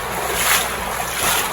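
Mountain water of the Bord river rushes through a canyon, a loud, dense, unbroken roar with a slight swell midway and no voices.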